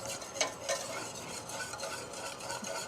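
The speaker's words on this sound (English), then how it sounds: "you want to use a whisk because you want to be able to break up those flour lumps as soon as they hit the butter" A whisk beats all-purpose flour into melted butter for a roux for pastitsio, soft rhythmic scraping and light sizzling heard close and fairly quiet, with no voices.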